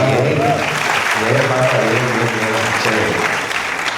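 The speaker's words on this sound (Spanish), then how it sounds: "un aplauso para estos muchachos que se han preocupado" A crowd at a carnival talk applauds in a dense, continuous wash of clapping, loud and sustained throughout, with a voice speaking underneath.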